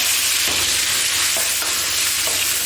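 Ginger, garlic and pickled chilies sizzle loudly in a hot wok for scallion beef stir-fry, a dense continuous frying hiss with a few faint scrapes of stirring.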